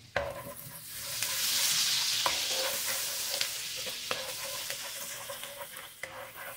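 Ginger added to melted butter in a pan sizzles steadily, with a soft stirring scrape and occasional utensil taps on the pan throughout.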